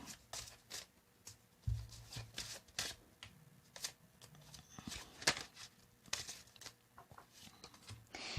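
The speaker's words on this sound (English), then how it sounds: "Another shuffle, they say." Cards are shuffled repeatedly, quick riffling bursts and soft flicks close by, fairly quiet with brief pauses between shuffles.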